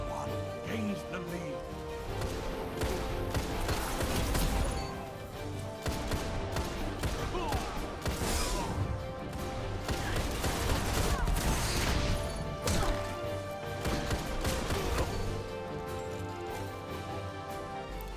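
The Last Word hand cannon fires in the Destiny video game, with repeated sharp shots in a fast, dense volley layered over a busy mix of other battle sounds and effects.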